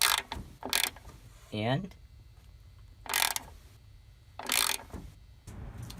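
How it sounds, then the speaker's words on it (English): A red ratchet socket wrench turns a bolt on a Prius hybrid inverter's orange high-voltage cable connection, giving three short bursts of close, crisp ratcheting clicks separated by pauses, with one brief spoken word early on. "I always like to use red socket wrenches"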